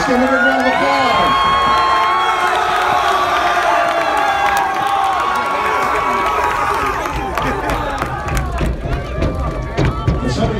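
A crowd cheering and whooping at a high school powderpuff football game, Seniors vs. Juniors, loud and sustained with shouting voices and clapping, easing slightly toward the end.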